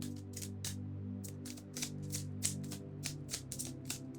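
A new tarot deck being shuffled, a run of soft, crisp card slaps and riffles at an uneven pace, close but faint, over a steady low hum.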